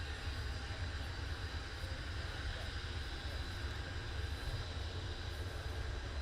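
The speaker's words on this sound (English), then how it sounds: "So number two engine starting now." Blackburn Buccaneer jet engine starting and running at Cotswold Airport, a steady loud roar with strong low rumble and broadband hiss held constant throughout, no talk over it.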